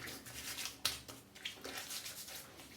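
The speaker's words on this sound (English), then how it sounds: "First pass complete, rinse the razor." A Parker 90R safety razor is rinsed under running water, a steady broadband splash with a few small knocks and clinks against the sink, close and fairly quiet, with no talking.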